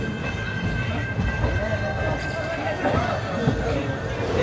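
The Marathwada Express running on the rails, seen from inside a packed general-class coach: a steady loud rumble with faint clickety-clack, and passengers chatting throughout.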